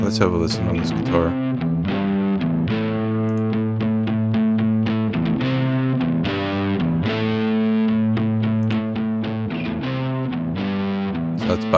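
Electric guitar played through Goodhertz Tupe tube and tape saturation, a steady run of plucked, slightly distorted notes and chords with a continuous sustained tone, close and even in level.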